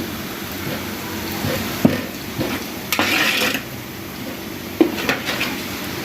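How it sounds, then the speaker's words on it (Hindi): Onions browning in oil in a pot, a steady sizzle broken by a few scraping stirs and clinks of a spoon against the metal, close by. "प्याज हमारे अभी ब्राउन हो रहे हैं।"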